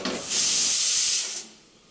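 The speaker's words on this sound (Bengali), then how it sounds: "প্রেশার কুকারে আলুটা রেডি করে নিচ্ছি জল নুন হলুদ দিয়ে একটা সিটি দিয়ে নেব" A pressure cooker of potatoes with water, salt and turmeric releases a loud, steady hiss of steam lasting about a second, then dies away quickly.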